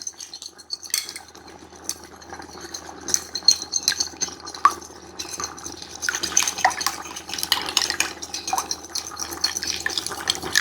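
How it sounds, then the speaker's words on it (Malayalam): Two chicken eggs are whisked in a bowl: quick, uneven metallic clicks and wet scraping that build into a busier, faster stretch, close and moderately quiet, with no voices. "2 കോഴിമുട്ട നല്ല മിക്സ് ആക്കണം."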